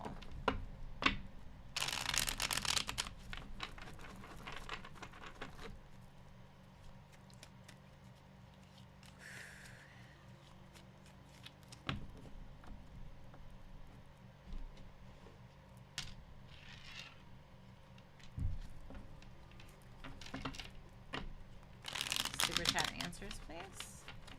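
Tarot cards are shuffled in bursts of papery riffling and crinkling, with quieter handling between, while a person talks intermittently nearby.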